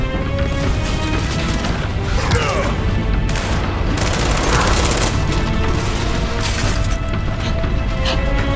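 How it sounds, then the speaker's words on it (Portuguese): A frag grenade blast in Gears 5, a loud dense roar of explosion and debris over constant heavy gunfire and battle noise, with no pause throughout. "Granada de fragmentação!"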